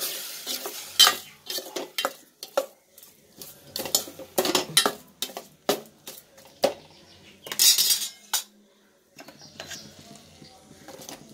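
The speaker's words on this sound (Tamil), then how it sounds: "வெங்காயம் நல்லா வதங்கணும்" Onions sautéing with rock salt in a pan, heard as a close run of rhythmic metal scrapes and clinks of a spoon stirring, brief bursts with short gaps between them, with no talk.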